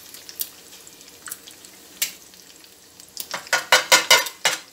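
A Peshawari chapli kabab fries in a cast iron pan, with soft sizzling that builds into a rapid series of sharp crackling, scraping bursts near the end. No one speaks.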